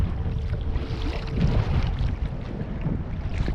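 Strong headwind buffets the microphone on a kayak out on the water. A dense, steady roar of gusts rumbles throughout with no pauses.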